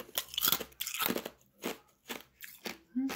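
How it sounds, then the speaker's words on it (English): A piece of ice is crunched between the teeth right beside the ear, giving about seven sharp, crackling bites at an uneven pace with brief quiet gaps. "I'm going to chew a piece of ice in your ear."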